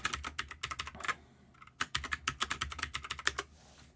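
Bursts of clattering keystrokes on a computer keyboard, quick uneven taps separated by a brief pause, close and fairly soft.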